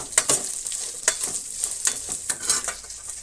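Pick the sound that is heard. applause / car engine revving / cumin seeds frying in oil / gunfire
cumin seeds frying in oil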